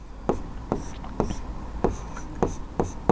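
Pen or chalk writing out a Class 10 trigonometry solution, a series of short scratchy strokes coming in a steady rhythm, close and clear, with faint breathy sounds between them.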